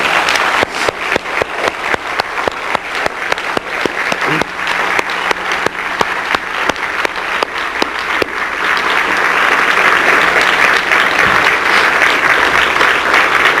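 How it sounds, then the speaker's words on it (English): A family show audience claps for the performers, first in loud, regular rhythmic unison beats, then breaking into a dense, sustained wash of close applause. "give them one more big hand of applause to show appreciation"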